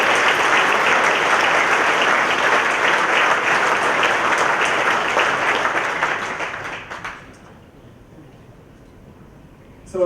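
An audience at the 12d Innovation Awards 2014 user conference gives loud, sustained applause for the winners, a dense wash of clapping that tapers off and dies out near the end.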